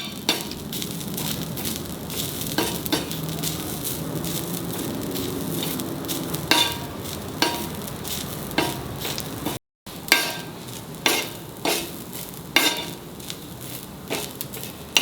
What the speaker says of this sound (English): Putting the 1/4 coconut, roast it properly so it loses its raw flavor or raw taste.